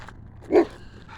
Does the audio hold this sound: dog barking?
yes